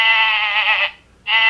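A toy farm bank plays a recorded sheep bleat, a loud quavering electronic baa that lasts nearly a second, breaks off briefly, then starts again, with no voices over it.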